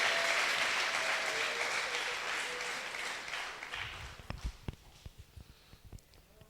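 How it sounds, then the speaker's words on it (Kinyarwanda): A church congregation applauds, broad clapping that thins out into a few scattered, distinct claps toward the end. "Muhimana amashyi mubivanye ku mutima,"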